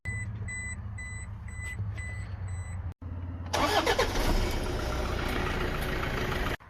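A 2005 Toyota Hilux SR engine cranks and fires after a repeating electronic beep, then settles into a loud, steady idle close by.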